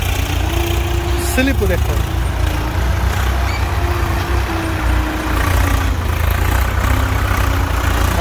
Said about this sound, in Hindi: देखो कितनी हाई तोबा कर रहा ट्रैक्टर, आरपीएम तो ड्रॉप कर ही रहा।